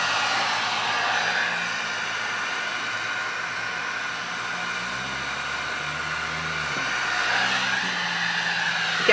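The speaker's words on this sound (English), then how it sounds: "And then you move it around with the heat gun." A heat gun blows hot air over alcohol ink on a DIY mug or tumbler, giving a continuous close whirring hiss that holds steady for about nine seconds and shifts slightly in pitch near the end.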